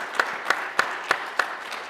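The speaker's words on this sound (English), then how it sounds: "Big round of applause for Elaine and Nick from change.org." Sparse, evenly spaced claps come from the audience at a Reuters Momentum tech event. Five or so distinct, moderately faint claps fall in a regular rhythm over about two seconds.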